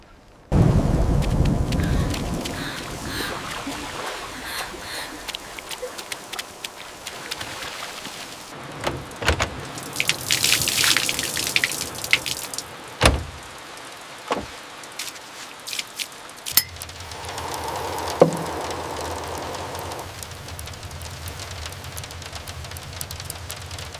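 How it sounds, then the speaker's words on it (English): A thunderstorm in a Kazakh farming village, with steady rain on surfaces and several loud, near thunder cracks and rumbles breaking through, followed by a lower, steadier rainfall. "Quite a storm."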